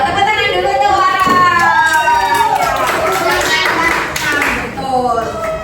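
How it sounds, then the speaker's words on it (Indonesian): A classroom of students claps for a classmate, a fairly loud burst of scattered hand claps mixed with children's chatter and a teacher's voice, fading and picking up again. "Tepuk tangan dulu tuh, Wara."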